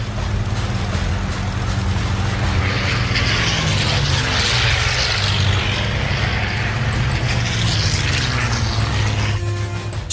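A Messerschmitt Me-109 fighter screams past at low altitude, just above the trees at about 560 km/h, a loud, continuous engine roar swelling and fading as it passes, with a steady low drone underneath and no talk.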